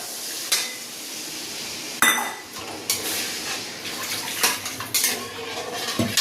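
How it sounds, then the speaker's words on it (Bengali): Water poured into a pan of pabda fish cooking in mustard sauce, heard as metal pan and utensil clatter with splashy, sizzling bursts at close range, no talking. "কষিয়ে মাছটা দিয়ে জল দিয়ে দিই। জল দিয়ে দিলাম।"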